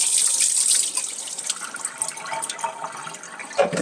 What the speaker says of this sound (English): Drain our chilies.